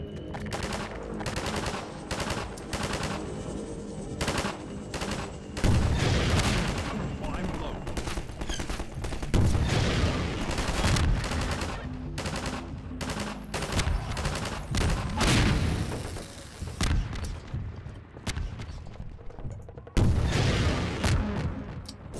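Heavy weapon fire in Half-Life 2 during a fight with striders: repeated bursts of rapid gunshots and booming blasts, loud and close, alternating with short pauses, while a player talks in between.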